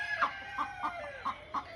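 Chickens clucking in a steady run of five short, evenly spaced clucks, fairly close, with a faint higher crow-like tone underneath and no voices.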